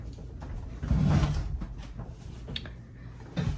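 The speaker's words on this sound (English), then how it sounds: "let me close my door" A room door is pushed shut indoors, giving one soft thud and rattle followed by a faint latch click, heard alone at close range.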